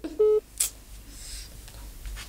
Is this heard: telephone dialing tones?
yes